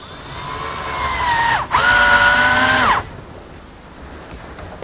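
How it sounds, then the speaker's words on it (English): Power drill driving screws to attach a drawer front: two close whirring bursts, each rising in pitch and then dropping as the screw seats, followed by quiet. "use some screws through the holes that I just drilled to attach it"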